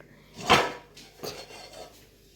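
Steel pots and vessels knock together, one sharp metallic clank followed by a softer second clatter and a faint ring, close by with no talking.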